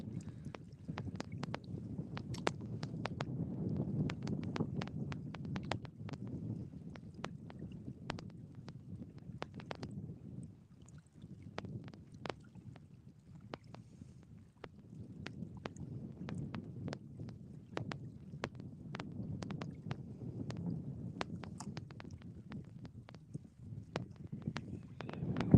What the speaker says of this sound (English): Wind's picking up on us a little bit too.